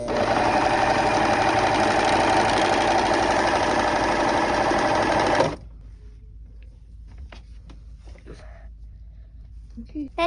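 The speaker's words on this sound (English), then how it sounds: "That's how you set the serger, guys, to make this edge." A Singer serger sewing machine runs in a fast, continuous mechanical whirring buzz for about five seconds, then stops abruptly, leaving quiet room sound with faint handling clicks.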